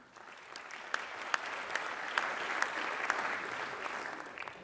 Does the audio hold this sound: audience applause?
yes